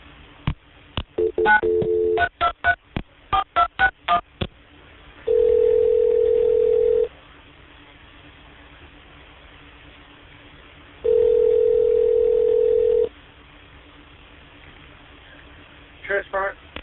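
A telephone call is transferred to a shift commander: rapid dialing beeps, then a long steady tone, more beeps, a second long tone, and a few final beeps, all sharp and clear over a quiet line.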